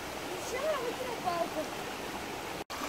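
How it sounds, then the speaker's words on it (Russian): Milky white Agura mountain river flowing, a steady broadband rush of water heard at moderate distance, with a person's voice talking briefly over it. "Настоящая белая река."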